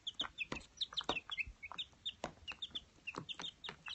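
Baby chicks in a brooder peeping and clucking, a busy run of short high chirps with soft pecking taps, close by and continuous.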